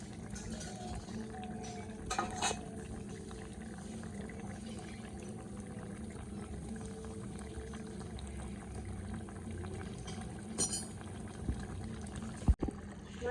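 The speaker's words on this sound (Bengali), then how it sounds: "মাছের ঝোলটাকে ঢেলে ফেলি" Hilsa fish curry with potato and eggplant is poured out of the cooking pot as a soft, continuous liquid trickle, with a few light clinks and one sharp knock near the end.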